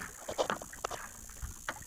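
Small boat drifting out on the open sea, with wind buffeting the microphone and soft splashing and creaks from the hull in scattered bursts.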